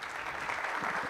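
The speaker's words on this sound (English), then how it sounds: "Another round of applause to him." A crowd gives a speaker another round of applause at an energy sector recovery program event, continuous dense clapping at a steady level that swells slightly toward the end.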